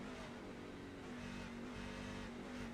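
A race truck engine in the iRacing sim holds a steady drone while its RPMs skip and stutter from fuel starvation coming off turn four, a continuous buzzing tone with slight dips and no voices.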